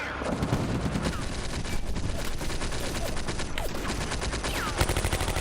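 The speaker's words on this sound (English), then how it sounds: "they're just blindly shooting, it seems, through the smoke" Scattered gunfire crackles in Combat Mission: Afrika Korps as troops fire blindly through a smoke screen, a steady rattle of rifle and machine-gun shots at mid distance under constant battlefield noise.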